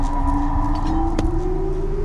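A steady siren alarm sounds in a Minecraft survival game, a sustained mid-pitched wailing tone that slowly rises over a constant rumbling background, moderately loud and unbroken, with no speech.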